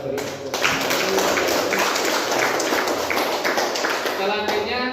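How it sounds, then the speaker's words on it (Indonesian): A crowd of children claps together in a dense, sustained burst of applause lasting several seconds, fairly loud and close, after a Quran recitation. "Kita beri tepuk tangan."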